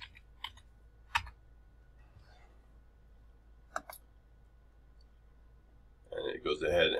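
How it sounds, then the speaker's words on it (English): Someone types a command on a computer keyboard at a Cisco router console, with a few sparse, isolated key clicks over a quiet hum, followed by a burst of voice near the end. "So I'm going to type in reset."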